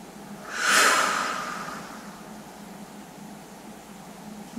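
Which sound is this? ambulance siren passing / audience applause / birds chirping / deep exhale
deep exhale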